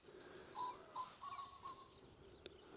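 Pheasants call at dusk beside a bird-ringing mist net, giving a few short, clear notes spaced about half a second apart over faint, steady outdoor background noise.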